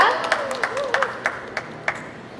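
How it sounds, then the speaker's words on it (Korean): An audience claps in quick, even beats at a fitness talk during the 2016 Single Life Fair, with sharp claps about every third of a second over a faint room murmur. "박수 한번 치고 가겠습니다"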